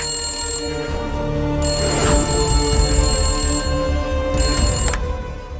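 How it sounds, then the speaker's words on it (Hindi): A telephone rings loudly and nearby in a domestic scene, its bright electronic tone pulsing in repeated bursts over a low background hum, with no speech. "देख तो कौन फोन बजा रहा है अभी"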